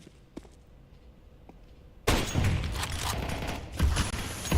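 Gunfire during a professional Counter-Strike match at a group-stage tournament, a quiet lull with a couple of faint distant shots, then a sudden loud burst of dense rapid shooting that keeps going.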